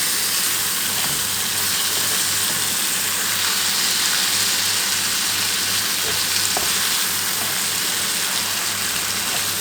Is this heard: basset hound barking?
no